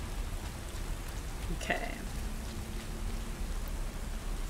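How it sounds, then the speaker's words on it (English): Steady rain in the video game Tomb Raider: Underworld hisses evenly throughout, with a brief spoken word and a faint tonal blip in the middle. "This is a hell of a lot of rain."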